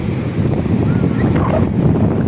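Strong, steady wind at Bagasbas beach roars and buffets the microphone, with a low rumble of surf underneath and no clear speech.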